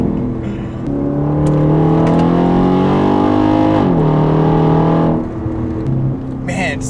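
Mercedes E550 V8 engine running steadily and loudly, revving up in smooth harmonic sweeps with a brief dip midway, someone talking over it.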